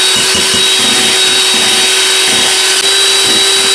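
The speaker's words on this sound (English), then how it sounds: "I apologize too if you can't hear me over the blender" An electric hand mixer whips cream into homemade butter, a loud, steady motor whir with a constant hum and faint beater rattle running unbroken throughout.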